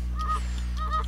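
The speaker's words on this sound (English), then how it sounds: "Apparently we have lots of ducks." Ducks honking in the video game Thirty Flights of Loving, two quick nasal honks about half a second apart over a steady low game hum.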